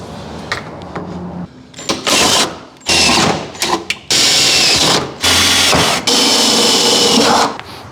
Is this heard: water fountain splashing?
no